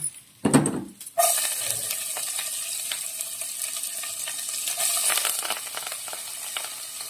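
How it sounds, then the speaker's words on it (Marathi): Asafoetida and green chillies sizzle in hot oil for a jackfruit vegetable dish, a loud, steady broadband crackle that flares up after a brief quiet start and continues unbroken close by. "छान तेल तापलेलं आहे आणि फणसाची भाजी करताना सर्वात प्रथम हिंग आणि मग हिरव्या मिरच्या"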